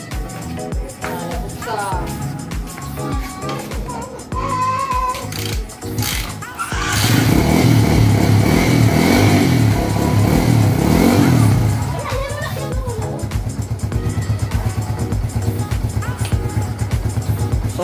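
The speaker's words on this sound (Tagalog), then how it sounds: "testing na natin, start natin yung motor" Motorcycle engine being tested after repair, heard revving up to a loud sustained roar midway before settling to a rougher idle, with people talking nearby over the engine.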